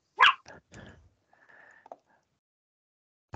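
A dog barks a few times indoors, short and moderately close, followed by quieter scuffling and near silence before another bark at the end.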